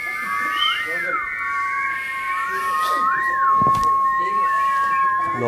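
Several people whistle in turn, long sustained and sliding tones, some rising and falling in pitch, with a steady held note running underneath, fairly close and loud throughout.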